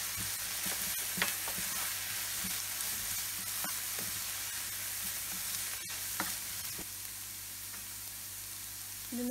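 Egg fried rice stir-fries in a pan after a splash of fish sauce, with a steady sizzle under scattered sharp scrapes and taps of a utensil stirring the rice.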